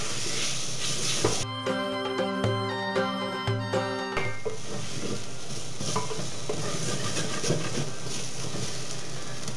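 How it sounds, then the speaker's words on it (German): Steady sizzling of flour frying in a pot with a brief stretch of stirring and scraping; a short burst of music-like tones interrupts early on. "Jetzt könnt ihr das Mehl noch hineingeben und schön anbraten"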